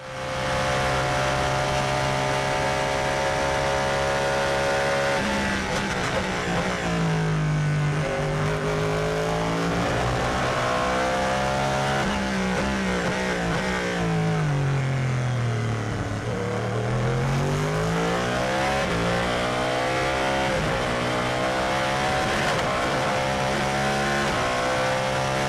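A Cadillac Hypercar's 5.5-litre V8 hybrid race engine roars loudly and continuously from inside the cockpit at Le Mans 2023, its pitch rising and falling through gear changes and revs.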